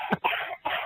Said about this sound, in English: Now she's coughing.